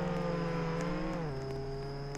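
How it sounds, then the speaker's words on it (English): Car engine in Roblox Jailbreak, a steady tonal hum whose pitch drops partway through, fairly faint and heard alone. "I hear cars."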